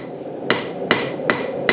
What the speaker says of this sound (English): I am hitting my first hot metal on an anvil